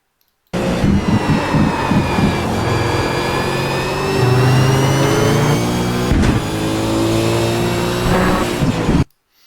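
Race car engine on the Brands Hatch circuit, loud and close, holding a high droning pitch that drops as the car brakes and turns in, then pulls again before cutting off abruptly near the end.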